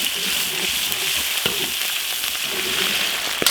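Octopus tentacles sizzle and crackle in hot oil with ginger, garlic and seafood sauce in an iron wok, a steady close frying hiss with occasional spatula scrapes.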